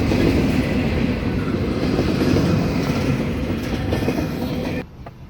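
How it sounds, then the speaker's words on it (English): The end of a Norfolk Southern westbound intermodal freight train rumbles and clatters steadily past at close range, wheels clacking on the rails, then the noise drops off abruptly as the last car clears, with no caboose. "Here comes the end of the train with no caboose."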